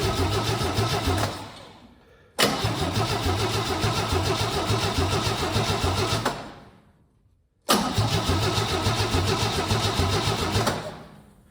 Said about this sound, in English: I can just crank this thing and it will fire right up.